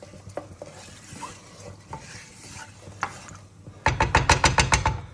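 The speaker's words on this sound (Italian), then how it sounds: "Li mettiamo nel tegame e li facciamo dorare in modo da far insaporire per bene l'olio." Garlic cloves frying in olive oil in a pan, a soft sizzle with a few scrapes at first, then a burst of quick rhythmic rattling strokes near the end, close by.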